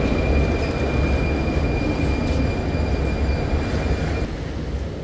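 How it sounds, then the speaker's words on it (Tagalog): A metro train in Prague, Czech Republic, rumbling loudly and steadily close by at a station, with a faint high wheel squeal running through most of the sound. "Ayun na yung train, sakay tayo."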